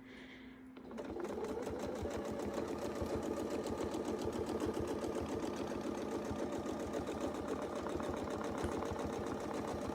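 A sewing machine stitching with a Westalee Between the Lines circle set starts after a brief quiet moment and then runs at a fast, even, rattling pace, close and sustained to the end.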